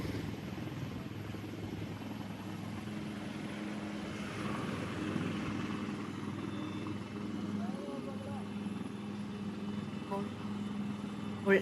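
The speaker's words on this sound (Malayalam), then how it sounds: "എയർഫോഴ്സിൻ്റെ ഹെലികോപ്റ്ററാണ് അവിടെ എത്തിയത്" An Air Force helicopter arrives to land, its engine and rotor making a steady, broad roar that fills the whole stretch without letup, with people talking faintly in the background.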